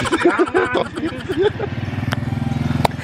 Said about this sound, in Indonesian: Ini manusia satu paling ribet mau nyobain motor abangnya.